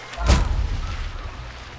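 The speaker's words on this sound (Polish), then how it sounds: "Słyszę dosyć dużo strzałów za nami." A single heavy gunshot booms in the Hunt: Showdown video game, a sharp close blast near the start that fades into a low rumbling tail, with no talk over it.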